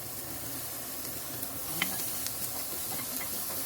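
Garlic sizzling steadily in hot oil in a pan for palabok sauce, a continuous close frying hiss with occasional pops and faint stirring clicks.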